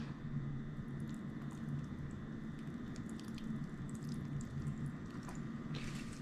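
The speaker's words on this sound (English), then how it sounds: "All right, so we're gonna add our marinade." Marinade containing soy sauce is poured over raw oxtails for a Jamaican pressure-cooker recipe, giving a soft continuous wet trickle and squish with a few drips and no talk.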